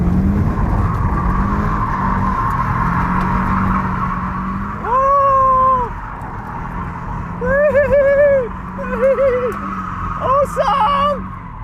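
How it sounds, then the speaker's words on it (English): A Prodrive Subaru Impreza WRX STI, a rally-bred four-wheel-drive rally car, slides sideways. A steady engine drone runs throughout, and several sharp tyre squeals rise and fall over it in the second half. "it's a rally-bred four-wheel drive, and rally cars like to go sideways"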